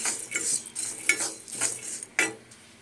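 Flax seeds roasting in a pan are stirred with a utensil, producing a series of crisp scraping and rattling strokes at an uneven rhythm, close and fairly loud with no voices.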